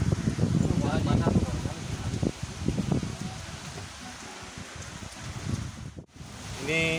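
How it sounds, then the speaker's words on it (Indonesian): Heavy rain and gusty wind at a fishpond in Cisauk make a steady, dense hiss and rush close to the microphone, with people talking over it throughout. "Ini judulnya ini Ben, hujan angin ya, hujan angin. Hujan badai."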